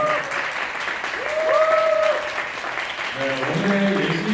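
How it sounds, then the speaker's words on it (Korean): Guests at a small wedding ceremony applaud as the event begins, moderate clapping heard alongside a voice speaking over it. "큰 박수 부탁드립니다"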